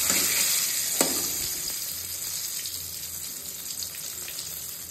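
Eggplant fritters (beguni) fry in oil with a steady, moderate sizzle, joined by a light clink near the start and faint scraping or stirring, with no talking.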